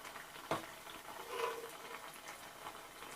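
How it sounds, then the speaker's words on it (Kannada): Aloo poha shaped like nippattu deep frying in hot oil, a steady close bubbling hiss with one sharp click near the start, no voices. "ಹಾಗೆ ನಾನು ನಿಪ್ಪಟ್ಟು ಥರ ಮಾಡ್ಕೊಂಡಿದ್ನಲ್ವ, ಅದನ್ನು ಡೀಪ್ ಫ್ರೈ ಮಾಡ್ತಾ ಇದ್ದೀನಿ ಇವಾಗ"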